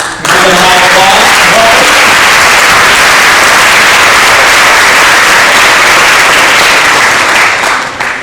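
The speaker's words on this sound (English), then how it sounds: "Give them a round of applause." Audience applause for elected officials at the Arizona 2014 governor's candidate forum: a dense, loud wash of clapping that swells quickly and holds steady throughout, with a brief voice near the start.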